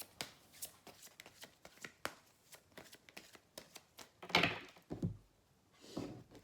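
Oracle cards are shuffled by hand in a series of quick, crisp riffles and taps, close and fairly quiet, with a louder burst of card noise near the end.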